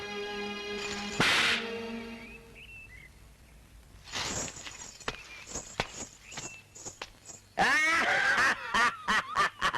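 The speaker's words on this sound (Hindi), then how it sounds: "क्या जोरदार आवाज थी भाई, थप्पड़ हो तो ऐसा।" A loud slap in a 1991 Hindi film scene cracks sharply near the start, followed by a few quieter smacks or steps and then bursts of chuckling laughter.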